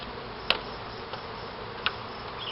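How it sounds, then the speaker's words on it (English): Bees buzz faintly and steadily at a hive trapout, a soft continuous drone with a couple of brief sharp knocks close to the microphone. "Gotta see all the bees that are in here already"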